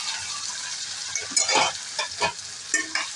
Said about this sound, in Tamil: இப்போ தாளிப்பு போட்டுடலாம் கொஞ்சோண்டு கருவேப்பிலை தேங்காய் திருவி வச்சதை போடுறேன்